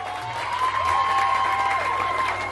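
An audience at a night dance competition claps and cheers in a steady, continuous wash, while a sustained tonal music line runs underneath.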